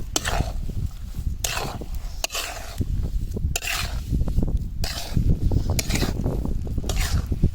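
Carrot halwa being stirred with sugar in a pan, a steady scraping and rubbing of spoon on metal with soft sizzling, moderately loud and close, repeating in uneven strokes with no talk.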